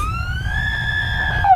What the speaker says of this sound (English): It was done by her screaming into one side of a headphone